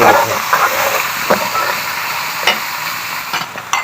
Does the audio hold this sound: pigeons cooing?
no